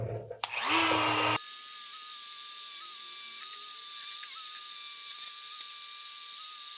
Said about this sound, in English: This is the eccentric spacer for the swing arm bolt, and this is my Dremel.